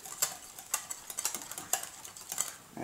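Quiet, repeated light scrapes and clinks of a utensil stirring salt and pepper seasoning together in a bowl, coming in an irregular rhythm of soft taps.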